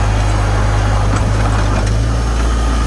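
Farmall Cub tractor engine throttling up while plowing heavy snow, a loud low droning rumble with a firm steady pulse, close and continuous with a slight rise.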